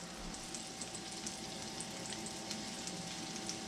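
Cubed pork cutlets fry in hot oil in a cast iron skillet, giving a steady, even sizzle with soft crackles throughout and no voice over it.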